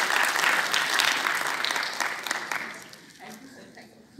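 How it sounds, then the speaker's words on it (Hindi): Sustained audience applause at a school arts festival in Jammu and Kashmir, dense and steady at first, then thinning and fading toward the end. "जोरदार तालियां बजनी चाहिए"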